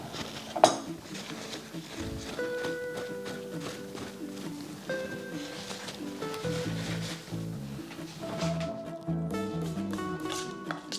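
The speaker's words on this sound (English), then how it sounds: "Add the egg white to egg yolk mixture. Stir well until they are well combined." A spoon stirs an egg white and yolk mixture in a bowl for a Japanese egg salad sandwich, giving light intermittent clinks and scrapes at close range over soft background music.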